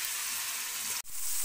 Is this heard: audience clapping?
no